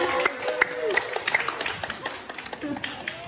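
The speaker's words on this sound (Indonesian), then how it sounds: "Boleh kasih tepuk tangan buat Bintang guys semua." Students in a classroom give a short burst of scattered clapping, fairly close, while a teacher's voice talks over it.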